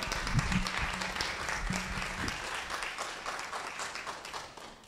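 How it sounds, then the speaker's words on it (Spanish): An audience applauds the children's category winners at a departmental story-writing contest award ceremony, with moderate, fairly distant clapping from a crowd that slowly thins out, and a few low voices briefly audible early on. "Un aplauso para todos ellos,"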